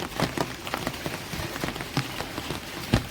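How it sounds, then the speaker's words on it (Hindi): Monsoon rain patters steadily on a nearby umbrella, with scattered sharper drops tapping irregularly throughout and no voices. "मई के एंड में बारिश आ गई।"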